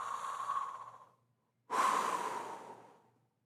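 A storyteller imitates breathing with his voice, making two long, loud breaths, one drawn in and one let out, with a short pause between them and no other speech.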